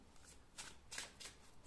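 A deck of small cards being shuffled, a brief riffling burst of papery flutters repeating in quick waves, fairly faint and close with no voices.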